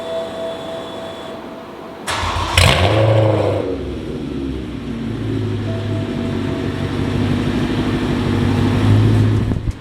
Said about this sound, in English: I'll give you a nice little cold start up.